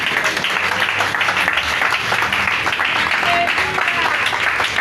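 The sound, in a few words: audience applause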